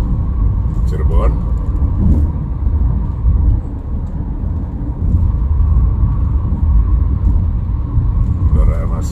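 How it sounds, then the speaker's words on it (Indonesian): Busy traffic on the Cipali toll road, with cars, box trucks, travel vans and buses, makes a continuous low roadway rumble heard from inside a moving vehicle, with a voice speaking throughout. "Kendaraan masih cukup ramai, selain kendaraan pribadi juga banyak kendaraan box, truk, juga kendaraan travel maupun juga bus."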